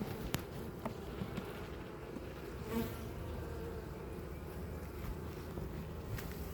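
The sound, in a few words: honey bees buzzing in a hive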